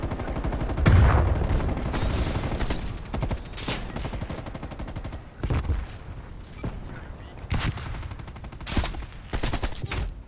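AK rifle fire in a shooter game, several loud bursts of rapid automatic shots spaced a few seconds apart, close and punchy, with clattering mechanical noise between volleys.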